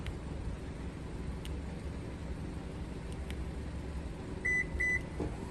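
A 2020 Subaru Forester locks from its original key fob, giving two short beeps near the end over a quiet background hum.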